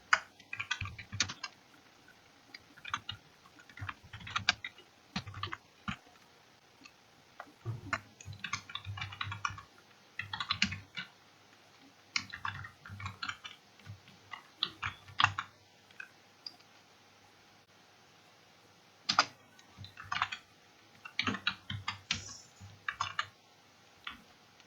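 Someone types a shop name and memo details into an MS Word document on a computer keyboard. Quick, uneven runs of key clicks come in bursts with short pauses between them, close and soft, with no voices.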